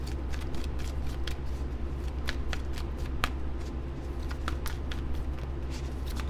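Wisdom of the Oracle cards are shuffled by hand, a close, continuous soft riffling with sharp little snaps and flicks scattered throughout over a low steady background hum.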